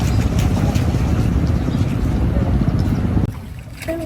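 A houseboat on the Padma river rumbles steadily with engine drone and water wash, loud and continuous, then the noise drops slightly near the end.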